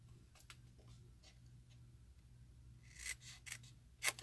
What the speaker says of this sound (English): And then I cut it with my scissors.